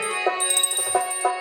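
A small hand bell rung during an aarti prayer gives repeated bright metallic dings, fairly faint and close, with a few distinct strikes and no talking.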